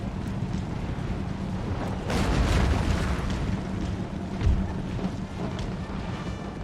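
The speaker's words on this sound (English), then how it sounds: "they're shooting my cannons with their cannons" Cannons fire in an Empire: Total War battle, a series of booming blasts and dull thuds over a constant noisy battlefield rumble, heard at a moderate distance without speech.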